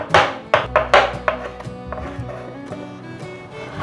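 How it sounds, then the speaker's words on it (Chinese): A knife chops soaked, squeezed shiitake mushrooms on a cutting board in a rapid, uneven series of close taps, loud at first and then softer and steady. "把香菇切碎"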